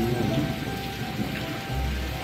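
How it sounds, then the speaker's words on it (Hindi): Heavy rain pouring steadily in a village, a dense continuous hiss with low rumbling underneath, close and loud, no voices. "ये देख लो क्या मस्त बारिश हो रही है।"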